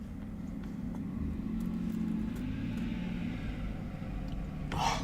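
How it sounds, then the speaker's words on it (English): A school bus passes at night, a steady low engine rumble that swells and holds across the stretch before easing, with a brief brighter noise burst near the end. "I do not miss the sound of that fucking school bus."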